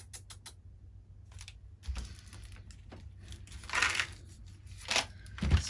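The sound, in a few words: wrapping paper tearing and crumpling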